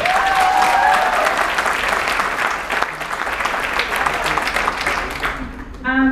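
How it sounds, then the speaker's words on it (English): A community candidates forum audience gives a loud, sustained round of applause that gradually thins toward the end as a voice speaks over it, with a brief whistle-like tone near the start. "round of applause for the question"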